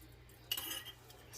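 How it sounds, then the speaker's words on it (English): A metal garlic press squeezes garlic through in a brief, faint clink and squelch up close, a single metallic press with a soft scrape in a quiet kitchen. "I have that in the garlic press, and I'm just mashing it through."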